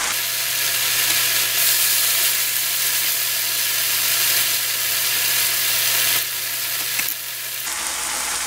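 Tofu pan-frying over high heat gives a steady, close, loud sizzle with no voices, running unbroken for several seconds before a slight drop near the end.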